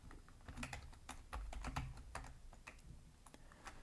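A computer keyboard clatters as a Linux terminal command is typed, with a quick run of irregular key clicks and a few heavier strokes, close and clear in a quiet room.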